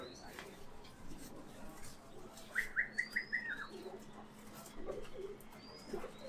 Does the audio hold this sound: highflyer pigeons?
yes